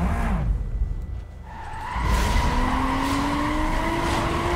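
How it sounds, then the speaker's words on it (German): An Audi TT doing all-wheel-drive burnouts in Need for Speed Most Wanted: a loud engine rises with a steady tire squeal, then a long sustained screech of spinning tires that climbs in pitch. "Allrad-Burnouts"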